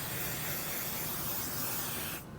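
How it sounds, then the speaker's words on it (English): Basting spray hisses from an aerosol can onto quilt batting in one continuous, close burst of about two seconds that stops abruptly. "Now I'm going to spray my batting"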